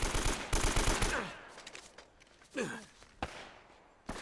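Gunfire from an AK rifle in Uncharted: Drake's Fortune: a rapid automatic burst up front, followed by sparse single shots and impacts, moderately loud within game ambience.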